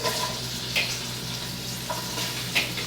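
Kale being tossed into a hot pot fries with a steady, moderate sizzle and a few brief clinks of stirring, with no one speaking.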